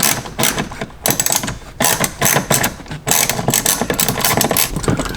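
Ratchet wrench removing screws beneath a BMW seat, a dense run of rapid clicking strokes with brief pauses near the one- and three-second marks, close and loud.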